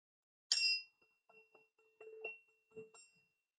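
Small hammer strikes a tuning fork, giving a bright ringing tone that sustains steadily for about three seconds, with a few softer taps and knocks breaking in over it.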